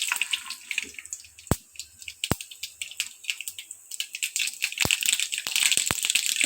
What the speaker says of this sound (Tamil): கடுகு போட்டுக்குருவோம்.